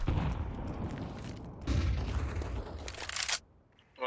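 A grenade detonates amid gunfire in a Counter-Strike 2 match at the Austin Major 2025, giving heavy, close bursts with a crackling hiss before a sudden drop to near quiet.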